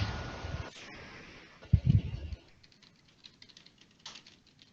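Keys on a Dell computer keyboard are pressed, first a few dull clustered thumps, then scattered light clicks and taps, close by and fairly quiet with no talking.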